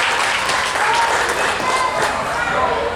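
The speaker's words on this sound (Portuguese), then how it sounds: "Palmas para o Luiz" Audience at a literary tribute event applauding steadily, a loud, dense wash of many hands clapping at even strength throughout, with faint voices mixed in.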